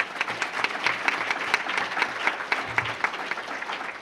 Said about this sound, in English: I think we should give a nice round of applause to all our speakers who came out today and spoke to us.